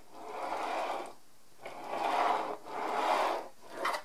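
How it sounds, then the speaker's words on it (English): Fingerboard wheels on organic bearings rolling across a surface, three or four soft gritty rolling passes with short pauses between them, faint and close, with a light rattle in each pass. "There is a random rattling noise though."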